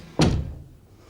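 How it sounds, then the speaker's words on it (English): A single door shuts with a sharp, close thump that fades quickly into quiet room tone. "We'll just close the door."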